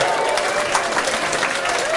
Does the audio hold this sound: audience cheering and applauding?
yes